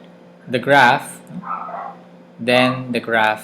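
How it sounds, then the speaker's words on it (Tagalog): A neighbour's dog barks faintly in the background, a short burst heard between stretches of someone speaking close up. "So, aso yan ng kapitbahay."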